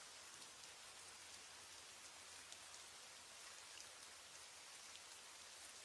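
Steady rain falls in a dense, even hiss of countless drops, a soft wash of sound that continues without pause or change and has no voices over it.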